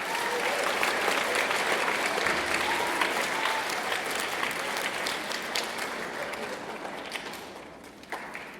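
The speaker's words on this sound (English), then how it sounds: "Go ahead and give a round of applause." Sustained audience applause at a middle school academic awards ceremony, a dense, steady wash of many hands clapping that fades slightly toward the end, with no talking over it.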